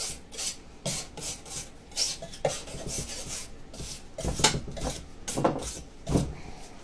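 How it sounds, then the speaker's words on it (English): Repeated rasping scrapes of a palette knife dragging paint off an abstract painting, metallic and neon acrylics, in a short irregular series of close, bright strokes with brief pauses between, no talking. "So I'm going to just scrape it right out."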